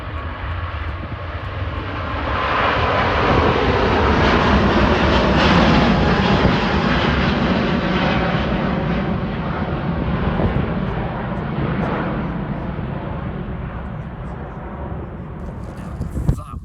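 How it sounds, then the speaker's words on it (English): An Airbus A350 airliner roars through its takeoff roll at Manchester Airport, the engine noise swelling to a loud, broad rumble and slowly fading as it climbs away. "Cathay Pacific, A350, takeoff roll, Manchester Airport."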